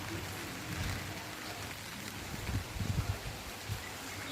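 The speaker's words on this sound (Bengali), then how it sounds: "কি হারে বৃষ্টি হচ্ছে" Heavy rain falling steadily near a rooftop among mango trees, a faint continuous hiss with some soft drips and patters on surfaces, no talk.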